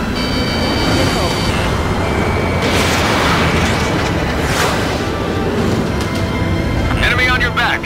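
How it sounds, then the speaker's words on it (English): Missile launch and blasts from jet dogfighting in the game Ace Combat 7: a dense, unbroken roar with heavy booming bursts and a whooshing streak near the end, with radio voices talking over it. "Missile. Target locked. Fire"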